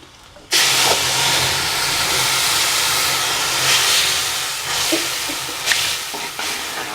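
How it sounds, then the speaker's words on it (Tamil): A sudden loud hiss and sizzle as tamarind water hits a hot pan of tempering spices for sambar, settling into steady bubbling frying with a few faint clinks. "தாளித்த உடனே இந்த புளி கரைச்சல் இருக்கு இல்லைங்களா, இதை தான் நம்ம ஃபஸ்ட்டு ஊற்றணும்."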